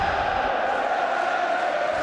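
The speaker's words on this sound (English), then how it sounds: "You can hear what the crowd think of that here at Ellen Road." Football stadium crowd at Elland Road during a Leeds v Millwall Championship match, a steady broad roar of many distant voices murmuring and jeering, sustained without clear peaks.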